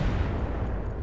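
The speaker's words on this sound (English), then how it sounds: "But I'm really hoping we hit with the plasma cannon here." A plasma cannon fires in the mech combat game Roguetech, a BattleTech mod: a dense, roaring burst of broadband noise with a heavy low rumble that holds steady and loud for about a second.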